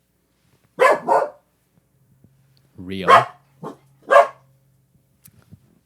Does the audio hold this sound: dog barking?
yes